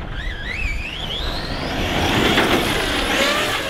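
The electric motor of a CEN Krazy Kaos Reeper RC truck whines up and down in pitch, then gives way to a louder, steady rush of running and rolling noise, close and with no talk.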